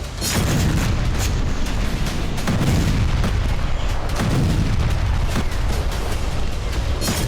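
Military strike explosions in Syria, with Homs named, roar as a loud, continuous barrage of heavy booms and crackling blasts that pile up without pause for the full length.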